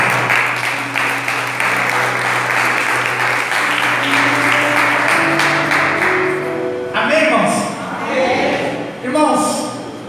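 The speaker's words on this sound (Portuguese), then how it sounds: "exaltar o Rei Jesus com as palmas" A church congregation claps in praise of Jesus, a dense, sustained round that runs for about seven seconds under held musical tones before thinning into scattered claps and talk.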